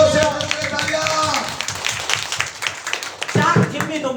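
A church congregation claps along in a steady rhythm of sharp, close hand claps beneath a voice speaking over them.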